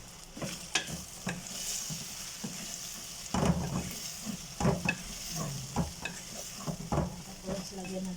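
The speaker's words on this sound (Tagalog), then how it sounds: "Rinaya nilagyan na mantika." Tomatoes sautéing in hot oil in a pan, with a steady sizzle broken by repeated scraping stirs of a utensil, close and alone without talk.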